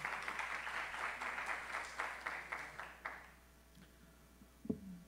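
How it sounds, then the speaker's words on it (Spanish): An audience at a urology symposium applauds a speaker with steady, fairly faint clapping that lasts about three seconds and then dies away, followed by a brief knock or handling noise. "Más que merecido, un fuerte aplauso para este profesional."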